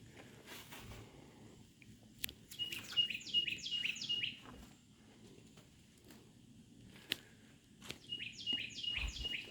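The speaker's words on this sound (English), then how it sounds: "That bird's like, Chiba, Chiba, Chiba." Small songbird chirping outdoors at Camp Hero in Montauk, repeated bursts of bright tweets in two clusters, moderately near over a soft background of wind and rustle, with no talk.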